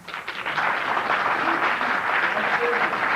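Audience at a 1997 public hearing breaks into steady applause after a speaker finishes, a dense, even patter of clapping filling the room for a few seconds.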